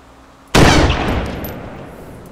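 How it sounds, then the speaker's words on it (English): Gunfire erupts in a video game sniper-on-sniper campaign, one sudden loud shot or burst with bullet impacts whose noise trails off over roughly two seconds after a quiet start. "You see the bullets hitting around you?"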